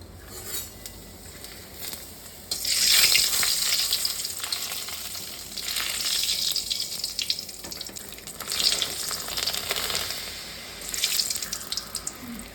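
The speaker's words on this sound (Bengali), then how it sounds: "তেল দিলাম, প্রথমে পাঁপড় ভেজে নেব" Papad fries in hot oil with loud sizzling that swells in several bursts after a quieter opening.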